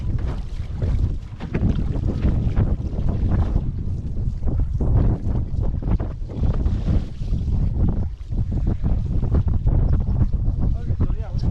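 A 2023 Armstrong XPS wing foil sail luffs in the wind with constant fluttering and buffeting, heard up close against heavy wind roar on the water.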